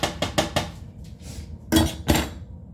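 Metal utensils clatter and clink as someone rummages through a kitchen drawer for an ice cream scooper, with sharp bursts of rattling early on and two louder clanks later.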